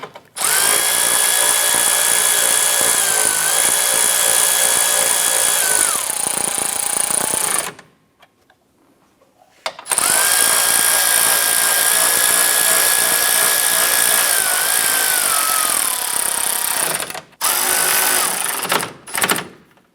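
A power tool whirs loudly up close while snugging headlight mounting bracket bolts on a 2011–2018 Ram 1500, in two long bursts with a dip in pitch near the end of each run, then a brief final spurt.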